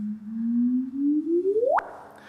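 A gravitational wave chirp waveform rendered as sound: a pure tone that rises slowly in pitch, then sweeps sharply upward to end abruptly with a faint click, steady and synthetic.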